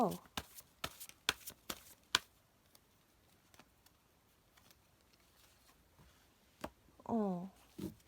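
Tarot cards shuffled for a reading, giving a run of sharp riffling snaps and taps in the opening two seconds, then scattered faint taps and one more brief burst near the end. A voice talks briefly toward the end.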